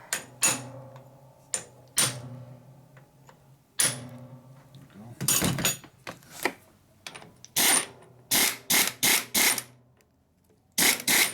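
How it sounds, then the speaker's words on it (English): A wrench works a spinning nut on a bolt during a springer fork rebuild on a 1942 Harley-Davidson WLC/WLA 45ci motorcycle, giving irregular bursts of metallic clicks and clanks separated by quiet gaps, with occasional talk nearby. "The nut's spinning."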